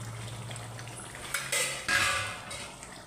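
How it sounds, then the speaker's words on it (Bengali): A lid clatters off a pot of fish curry, followed by a spoon scraping and clinking against the metal while stirring. The sounds come as a few sharp, close knocks and rattles over a quiet kitchen background hum. "ঢাকনাটা খুলে একটু নেড়ে দেব।"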